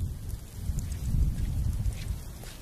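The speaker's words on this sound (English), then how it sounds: "A storm is heading towards the lagoon." A rainstorm sweeps over the Venice lagoon, a steady broadband rush of rain and gusting wind rumbling low and loud throughout, with no voices.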